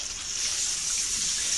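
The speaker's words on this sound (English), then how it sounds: "So I'm going to run it under some hot water." Hot tap water runs steadily over a jar of goldenrod honey, a close, continuous rushing hiss of flowing water with no talking.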